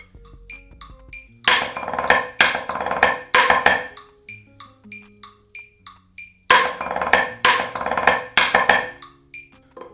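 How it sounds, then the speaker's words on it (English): Snare drumming plays 8th-note triplet diddles in sharp, bouncing bursts ending with two flams, repeated twice with brief gaps between phrases, close and loud with no talking. "After that part, you're gonna go into 8th note triplet diddles."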